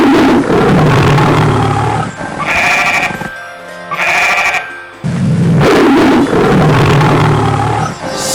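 A large wild cat lets out a loud, close, drawn-out roar, repeated twice with a brief pause between, rough and rumbling with no talk over it.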